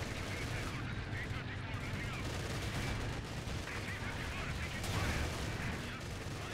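Company of Heroes 2 battle with an SU-152 firing on a Panzer IV brings dense, continuous gunfire and explosions, loud and crowded, with a swell of heavier blasts near the end and a voice faintly mixed in.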